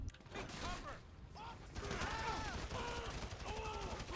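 Gunfire in GTA 5, a video game: bursts of shots and rapid automatic fire ring out through the clip, loud and sustained, with game voices and excited players talking over it.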